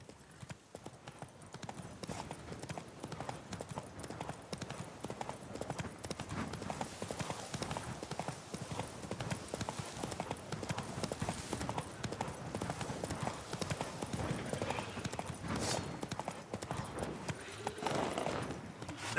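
A horse's hooves clip-clop steadily in The Witcher 3, a brisk, unbroken rhythm of hoofbeats that carries through the whole stretch over quiet game ambience.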